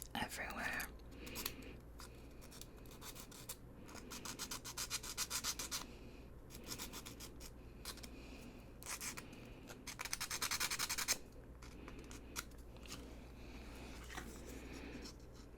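Quiet, close rasping and scratching strokes from sanding or shaving small wood pieces for a miniature book nook, coming in repeated bursts with soft whispered speech in between.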